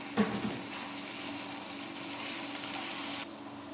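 Tomatoes hit hot oil with golden-browned onion, ginger and garlic, giving a sharp initial crackle, then a steady, broad sizzle that fries on close and continuous until it drops away near the end.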